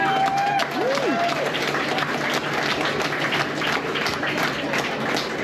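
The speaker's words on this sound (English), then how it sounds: "And so we applaud you" Steady applause from an audience fills a celebration-of-life gathering, a dense, continuous wash of many hands clapping at even loudness throughout.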